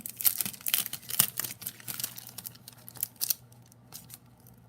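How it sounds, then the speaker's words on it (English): Card paper being cut down to A2 card-front size with a paper trimmer, close and fairly quiet: a series of quick crisp snips and slicing rustles, irregular in rhythm, thinning out toward the end. "I'm going to cut them down to an A2 sized card front"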